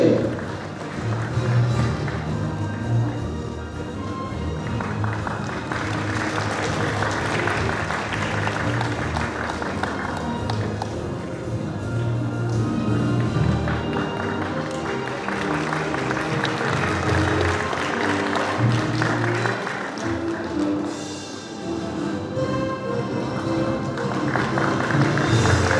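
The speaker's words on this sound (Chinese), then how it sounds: "响起热情的掌声" A crowd at a charity pageant final applauds warmly, with dense, sustained clapping that swells and dips over a long stretch while a voice speaks over it.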